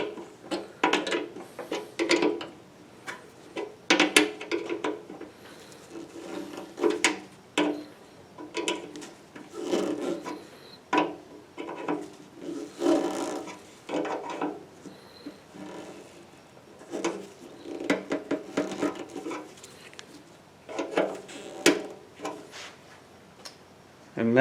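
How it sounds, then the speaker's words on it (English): Wrench tightening bolts on a motorcycle gas tank during reassembly, repeated short metallic clicks and ratcheting ticks in irregular bursts, close and moderately loud, with pauses between turns. "so now I'll just tighten them up with a wrench"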